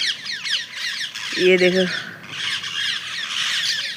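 Parrots on a house roof give loud, harsh squawks in repeated bursts, close by, while someone speaks briefly over them.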